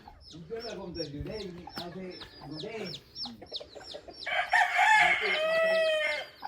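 Chickens cluck and squawk close by, then a rooster lets out a loud, drawn-out crow near the end.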